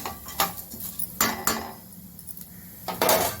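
Urad dal being roasted and stirred in a pan, heard as intermittent metal spoon scrapes and clinks against the pan with quiet gaps between, close by, no talking.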